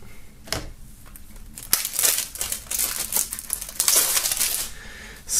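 Plastic foil wrapping torn open on a boxed shirt and music album, giving close crinkling, crunching rustles and sharp tears in irregular bursts, with no one speaking.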